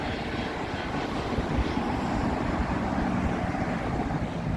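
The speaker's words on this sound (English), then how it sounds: "Here's another 320 Neo for Iberian. And that one's come from Madrid." An Iberia Airbus A320neo arriving at Heathrow makes a steady, broad jet roar at moderate distance, a continuous rushing engine noise with no voices.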